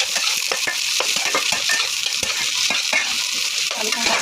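Potatoes frying with onions in a mushroom curry, stirred steadily, a continuous close sizzle broken by frequent sharp scrapes and clinks of a spoon against the pan.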